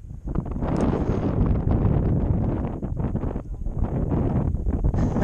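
Strong wind blowing across the open water of Prineville Reservoir in the rain, buffeting the microphone with a loud, continuous rumble that surges and dips.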